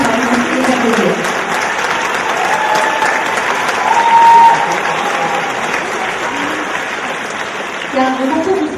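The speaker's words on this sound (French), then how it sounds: "Et merci pour les applaudir." Loud, sustained audience applause at the Miss Orléanais 2014 beauty pageant, a dense wash of clapping from a large crowd with faint voices and music tones mixed underneath.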